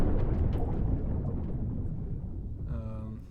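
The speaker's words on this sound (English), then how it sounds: "So we've got like an underwater explosion." Underwater explosion sound effect for a submarine game, a deep, loud rumbling boom that fills the low end and slowly decays over several seconds, ending with a faint rising tonal ping.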